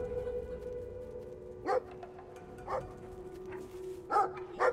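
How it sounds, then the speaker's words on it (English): Dog barking in the Brothers: A Tale of Two Sons video game, four short separate barks spaced over a steady musical drone, moderately close, no talking. "I guess we'll see what this dog wants next time."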